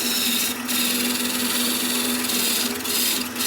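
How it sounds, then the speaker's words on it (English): A Shopsmith wood lathe drones with a steady motor hum while roughing out a wood blank for a mushroom, loud and close, with a few brief bursts of tool-on-wood scraping. "Now that I've got most of this roughed out, you can get really rough and aggressive and chunk out some wood."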